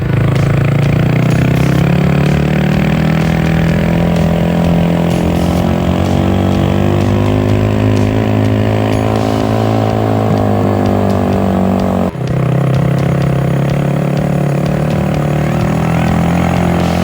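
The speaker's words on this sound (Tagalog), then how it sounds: "Ang gamit namin motor ay Cafe 150" A Cafe 150 motorcycle climbs a steep road near Nagcarlan, Laguna, its engine droning loud and steady with a sustained harmonic tone that bends slightly and briefly dips around a gear change or throttle shift.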